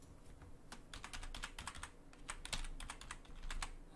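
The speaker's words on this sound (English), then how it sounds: "I've got to remember to type quietly because it's probably annoying you, the keyboards and the clicks and things" Steady computer keyboard typing with a quick run of sharp key clicks in irregular bursts, close and fairly quiet, over a low background hum, with nobody talking.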